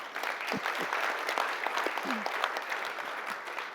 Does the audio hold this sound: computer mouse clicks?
no